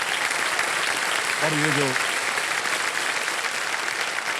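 Studio audience applause on a TV quiz show, a sustained roar of clapping throughout, with a voice speaking briefly over it near the middle.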